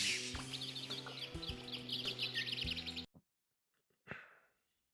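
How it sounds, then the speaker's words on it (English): Birds chirp and twitter in a rapid, lively series over low droning ambience in the 1992 horror adventure game Alone in the Dark, then cut off, followed by a brief isolated chirp. "You can listen to the birds twerping and chirping."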